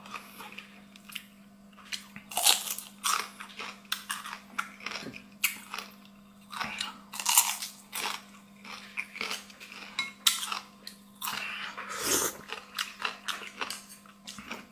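Someone chewing crunchy dried fish with small chili peppers, repeated close bites and crunches in an uneven rhythm with faint utensil clinks and a low steady hum underneath.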